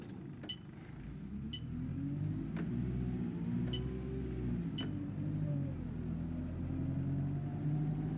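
A London Citybus C200 in OMSI 2 hums along at a steady, low engine drone with faint rising and falling tones, a few soft clicks and ticks over the top, fairly quiet throughout.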